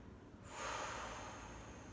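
A single soft exhale through the nose during a muscle-strengthening exercise, a faint breathy rush of air that swells and lingers over low background hiss.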